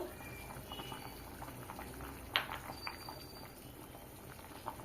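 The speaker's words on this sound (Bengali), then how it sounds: "ঝোল ফুটে গেছে" Egg and potato curry gravy simmering in a pan, a quiet steady bubbling with occasional soft pops and plops heard up close, with no voices.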